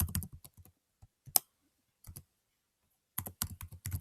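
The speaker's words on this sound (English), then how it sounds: "Then you're going to type in your email address." Keystrokes tapped out on a computer keyboard while entering an email address, a burst of quick clicks, a few scattered single taps after a pause, then another rapid run; close and clear with no talking.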